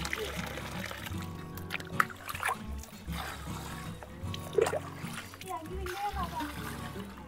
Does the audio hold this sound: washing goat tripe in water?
yes